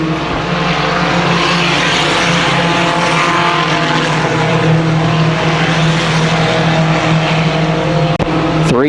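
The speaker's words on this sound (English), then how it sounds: "Three-car breakaway, and then all by himself, the final transfer car of Brian Beach." Race cars roaring through a main event at Columbus Motor Speedway, a loud, sustained engine howl from several cars close by, ending with a sharp crackle.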